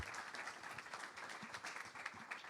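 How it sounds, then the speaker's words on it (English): A conference audience applauds a fintech panel at a London fintech week event. The clapping is steady and faint, with a dense even patter of hands held throughout at a distance. "please give my panel a round of applause"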